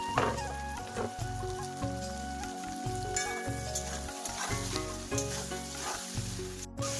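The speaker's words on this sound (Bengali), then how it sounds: "টমেটো আর পেঁয়াজটাকে ভালো করে ভেজে নেবো" Tomato and onion fry in a pan with a steady, close sizzle and crackle, interrupted by a few scraping stirs. No voice is heard.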